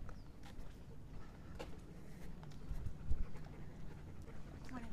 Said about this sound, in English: Big dog.